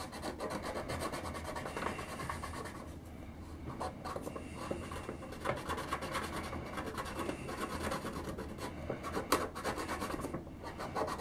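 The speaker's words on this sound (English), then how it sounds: "I'm going to use a little bit of rubbing alcohol on a Q-tip" A Q-tip dipped in rubbing alcohol scrubs the plastic of a GI Joe Trouble Shooter toy, a steady close rubbing and scratching that runs continuously with slight rhythmic strokes.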